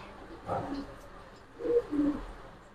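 Soft, low cooing calls from bird chicks, two faint bursts with a pause between them, close by against a quiet background.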